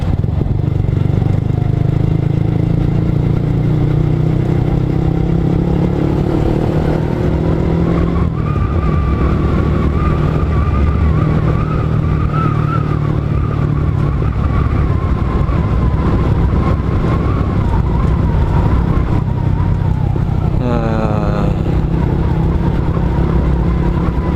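A manual-clutch motorcycle rolls downhill in fifth gear, giving a loud, steady engine and road drone with wind rush throughout and a brief rising whine near the end.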